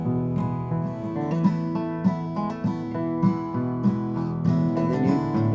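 Guitar picking a fast, steady pattern of plucked notes with occasional slurs, played at a guitar class at Camp Eggers in Kabul, Afghanistan; bright, close and continuous with no talking.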